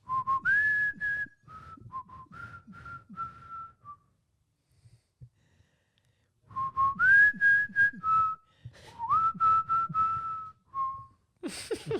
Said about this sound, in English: Is he good at whistling?